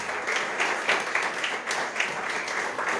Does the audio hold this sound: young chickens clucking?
no